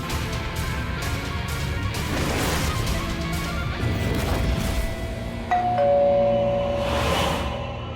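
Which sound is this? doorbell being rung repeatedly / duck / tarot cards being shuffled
doorbell being rung repeatedly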